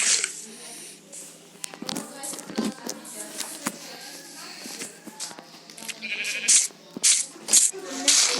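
Repeated sheep bleats with a synthetic, game-like quality sound over someone talking, along with clicks and other game noises in a survival video game.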